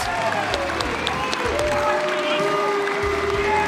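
Audience applause fills a Rainbow Six esports arena in Las Vegas at the 2019 US Nationals, a steady wash of clapping with crowd noise and a hum underneath, holding loud throughout.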